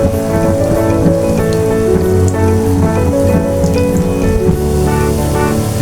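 Sweet potato rasgulla balls deep-fry in oil with a loud, dense, continuous bubbling crackle that holds steady throughout, close and without pause.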